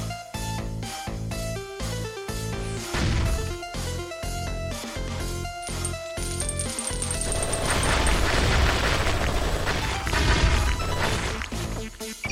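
Ice Quartz weapon blasts in the video game Bugs Must Die, a grenade-and-napalm-style attack, burst out in loud rapid volleys, sharp booms and crashes stacking into a dense roar of explosions over game music, with no talk.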